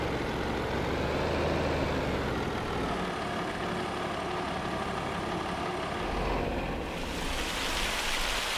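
Steady rain falls in a stormy Louisiana farm setting in Farming Simulator 25, a continuous hiss that runs the whole time with a low engine-like rumble underneath and no talking.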